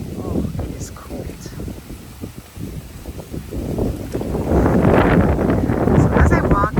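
Strong wind gusting outdoors in an orchid garden on a cold morning, buffeting the microphone in rough bursts that build louder in the second half.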